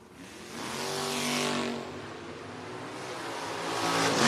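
Drag racing cars, including a Mopar Duster recently rebuilt after a fire, blast down the strip at a Friday bracket race event, engines roaring and climbing in pitch as they pass, loud and sustained, with no talking.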